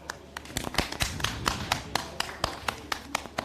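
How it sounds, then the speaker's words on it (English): Scattered hand claps in a round of applause for silver sponsors at the Lagos Smart Meter Hackathon 2020, sparse and irregular taps rather than a full ovation, fairly quiet in a hall. "A warm round of applause for our silver sponsors."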